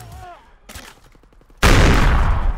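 Full-auto M1A1 carbine fire in the video game Call of Duty: WWII begins as a sudden loud, dense burst that continues to the end, preceded by a short voice and lighter in-game clicks.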